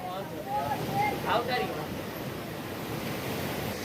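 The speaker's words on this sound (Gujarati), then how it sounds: "અને જોઈ લ્યો આ દરિયો દરિયાની બાજુમાં જ છે મંદિર" Sea waves wash onto the shore beside a seaside temple in Diu, a steady broadband rush with wind buffeting the microphone and a slight swell in the surge early on.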